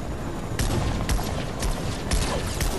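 Gunfire in Fortnite, a steady run of quick shots popping over a busy background, moderately loud with no voices.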